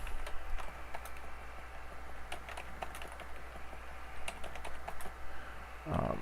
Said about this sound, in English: I've gotten pretty good at typing entity over the years.